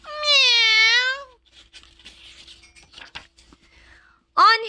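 A person imitates a cat's meow with a long, drawn-out call, then some quiet rustling, followed by a second short meow at the end.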